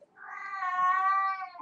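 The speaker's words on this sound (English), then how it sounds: "oh, that's my cat. She's calling." A pet cat gives one drawn-out, clear meow lasting over a second, close and fairly loud, with no talking over it.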